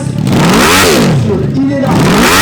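Trial motorcycle climbing a steep hill at a hill climb competition, its engine revving and surging up and down in pitch, loud and close, with commentary running over it.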